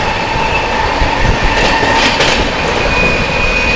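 Alipurduar–Delhi Sikkim Mahananda Express passing on a loop line, a loud, close rolling roar with rail clatter and a thin wheel squeal, steady throughout with no voices.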